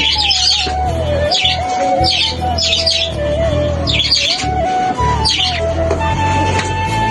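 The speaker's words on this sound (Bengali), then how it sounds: "অসাধারণ কিচিরমিচির পাখিরা উন্মুক্ত হয়ে খুবই খুশি" A flock of budgerigars chirps and twitters continuously, close and loud, with bright repeated warbling calls over a busy background chatter, on a rooftop.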